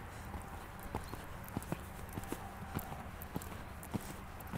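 A horse's hooves thud in an even, repeating rhythm at a canter on an arena surface, moderately near and fairly soft, with no voices over them.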